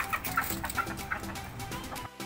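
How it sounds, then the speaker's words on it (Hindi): Chickens cluck and a rooster makes short, repeated calls nearby, amid faint outdoor background noise. "हेल्थी मुर्गा।"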